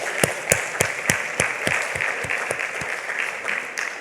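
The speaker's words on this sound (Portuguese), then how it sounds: "Cadê aquela salva de palmas para o nosso Senhor Jesus Cristo?" A church congregation claps together in a steady, fairly even rhythm of sharp hand claps, close and moderately loud over a diffuse room wash, with no one speaking.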